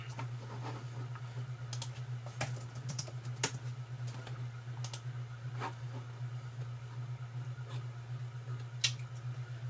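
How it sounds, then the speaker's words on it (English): A computer keyboard is tapped in sparse, light clicks over a steady electrical hum, the keystrokes faint and irregular with pauses, and no one speaks. "I wonder if we can just type in Harry 31."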